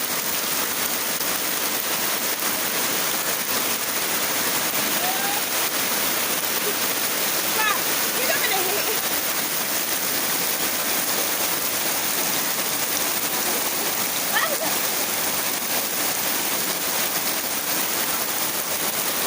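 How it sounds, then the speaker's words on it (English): Heavy rain pours down steadily in Tintiba village in The Gambia, a dense, unbroken hiss of drops on surfaces that stays loud and constant throughout, with faint voices surfacing briefly now and then. "Heavy rain falling."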